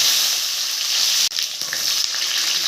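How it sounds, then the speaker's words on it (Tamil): Fenugreek and mustard seeds crackle and fry in hot oil for a coconut milk fish curry, making a loud, continuous close-up sizzle with a brief dip midway and no voices. "வெந்தயமும் கடுகு நல்லா பொரியுது"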